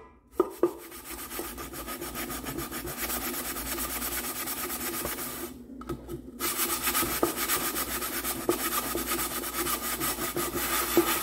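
A magic sponge scrubs rust off a metal surface in steady, close rubbing strokes that run continuously with a brief pause midway, no voices.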